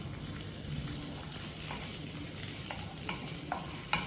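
Ginger sautés in a frying pan with a constant soft sizzle, while a utensil stirs and scrapes against the pan in a few light, irregular knocks and clinks up close.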